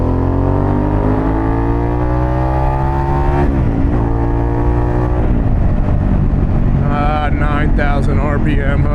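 Harley-Davidson Pan America motorcycle engine revving hard, a loud sustained roar with rising pitch that drops briefly and climbs again, with a faint voice over it.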